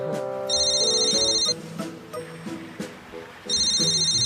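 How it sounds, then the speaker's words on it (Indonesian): A telephone ringing indoors, with two loud electronic ring bursts separated by a pause while background sounds continue. "Ada telepon nih, bentar ya."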